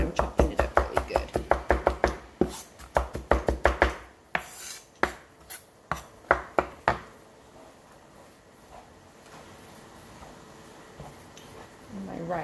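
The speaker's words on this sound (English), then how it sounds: "that's why I'm chopping it up really good" Kitchen knife chopping onion on a cutting board while making tacos: a rapid run of sharp, close knocks, then slower scattered chops that fade out into quiet room tone.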